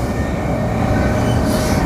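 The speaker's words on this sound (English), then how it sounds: "A lot more of those trains out and about now." A suburban train rumbles loud and close at Cockburn Central station on the Mandurah Line, a continuous heavy roar of wheels on track that lasts the whole moment.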